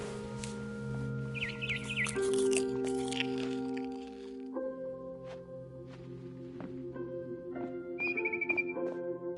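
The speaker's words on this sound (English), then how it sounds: "Then I heard chirping outside my window." Barn swallow chirping outside a window in the game What Remains of Edith Finch: short high twittering calls, brief and moderately clear over a steady ambient game drone and soundtrack, with a louder chirp burst near the end.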